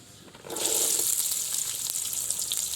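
Onions dropped into hot ghee in a pot over a wood-fired stove, a sudden burst of bright hissing sizzle that swells and then holds steady, close and loud, with no talking.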